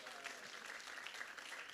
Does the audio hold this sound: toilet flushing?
no